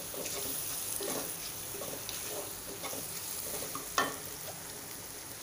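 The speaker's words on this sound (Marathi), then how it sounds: "हा ठेचा माझा छान मिक्स करून घ्यायचा आहे" Thecha being stirred and mixed in hot oil in a pan, with a low, even sizzle and scattered scraping taps of a spoon, close and quiet, with one sharper clack near the end.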